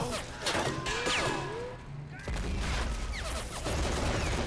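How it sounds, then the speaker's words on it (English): Machine-gun bursts and dense gunfire in the World War II strategy game Men of War: Assault Squad, with a busy, continuous battle din, while a player talks over it. "Ooh, nice job there, Star, with that machine gun."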